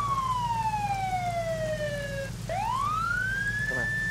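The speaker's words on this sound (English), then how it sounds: "tell your homie to turn off this horn" A loud siren wails in long falling then rising sweeps, one continuous tone gliding down and back up, blaring steadily close by with faint background murmur.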